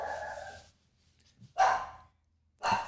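A dog barks outdoors in two or three short, loud bursts separated by brief gaps of quiet, close by and with no talking over it.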